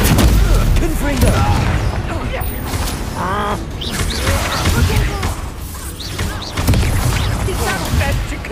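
Hogwarts Legacy combat erupts as the Confringo explosion spell is cast, with dense, repeated booms, crashes and magical impact bursts. An excited voice shouts over the clamor.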